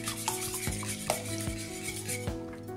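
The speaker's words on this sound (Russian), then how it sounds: "Перемешиваю." A spoon stirs egg batter through a thick mixture in a bowl, with soft scraping and occasional clinks against the side at a steady pace.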